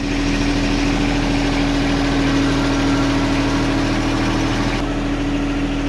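A John Deere tractor engine runs at a steady, loud, close drone with an even hum, powering a lift as it raises.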